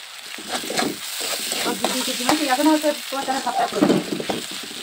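Chicken and chopped vegetables sizzle and fry in a pan for homemade flour noodles, with steady hissing and repeated scraping stir strokes close up, no talking.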